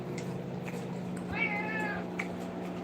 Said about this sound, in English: You hear my cat talking?